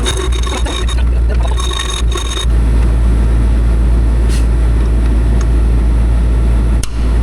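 A sharp hand file rasps on a plastic coolant fill neck part for a 2007-2016 Jeep Compass, giving quick close scraping strokes over a loud steady hum before the filing stops.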